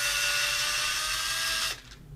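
A power drill whines steadily as it bores into the plastic body of an Arduino autonomous vehicle, with light pressure on the bit, then winds down sharply near the end, close and loud.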